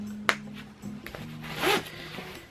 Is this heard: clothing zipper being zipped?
yes